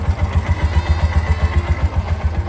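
A tuk-tuk engine fitted with a new carburetor idles close by, a loud, even, rapid chugging pulse that keeps a steady rhythm throughout.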